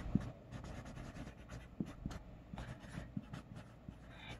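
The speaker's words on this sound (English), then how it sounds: "I'm going to write min here" Marker squeaks and taps on a board during a science lesson, several soft irregular strokes spread across a few seconds, quiet and close, with no voice.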